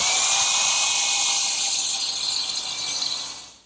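Drill bores a dowel hole into a wooden writing desk leg, giving a sustained high-pitched whine close to the mic that runs steadily and then winds down at the end.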